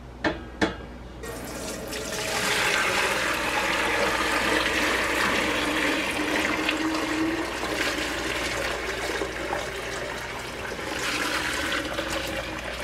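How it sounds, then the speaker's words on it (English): Rabbit stock is poured through a colander into a stock pot, giving a steady, loud rush of liquid that runs continuously after two short clinks at the start, with no talking. "I'm now going to strain this through a colander into a stock pot."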